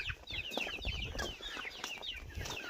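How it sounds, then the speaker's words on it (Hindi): Backyard chickens in rural Chhattisgarh cluck and chatter as they trail a person on foot, a busy mix of overlapping calls with soft footsteps and rustling nearby. "देखो गाइस कैसे मेरे पीछे पीछे मुर्गियाँ आ रही है।"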